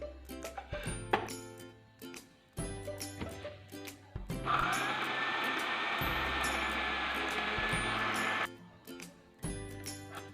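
Short bursts of clinking and rattling, then an electric blender whirs steadily for about four seconds, blending about a cup of mulberries into a smoothie mixture. More clinks follow afterward, with no talk.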